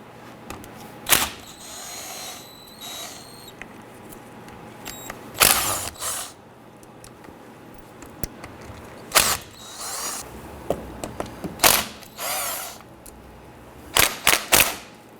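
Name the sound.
13mm socket ratchet loosening Jeep Wrangler axle bolts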